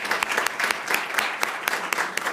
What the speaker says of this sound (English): like to give our staff a huge round of applause